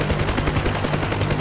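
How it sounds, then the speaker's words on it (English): A helicopter in the flight simulator Digital Combat Simulator fires a rapid, even stream of rocket launches over its steady rotor drone, loud and continuous for the whole short stretch. "Wait, I just fired rockets."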